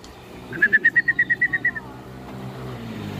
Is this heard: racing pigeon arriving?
yes